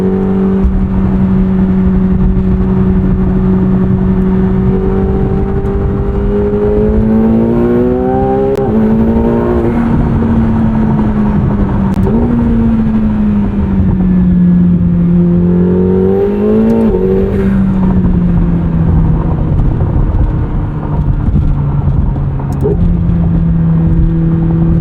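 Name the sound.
McLaren 750S engine accelerating while driving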